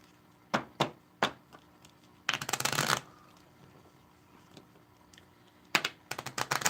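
Playing cards are shuffled during a card reading: several separate riffle bursts, then a longer, louder flurry of riffling and another burst at the end, close and crisp with no talking.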